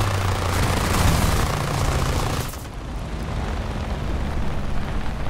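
Aircraft machine guns fire in War Thunder from an I-16 type 5 fighter, a loud, dense roar of sustained rapid fire over engine drone that cuts off halfway, leaving the steady rumble of the plane.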